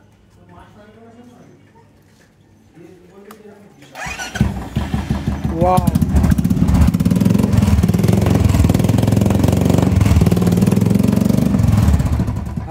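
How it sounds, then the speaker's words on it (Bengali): A Royal Enfield motorcycle with a modified exhaust fires up after a few seconds of talk, then idles and revs loudly and close by, its deep thumping exhaust note continuing steadily to the end; a voice exclaims briefly. "আপনারা সাউন্ড দেখতে পাচ্ছেন এক্সজস্টের সাউন্ড ভেরি লাউড"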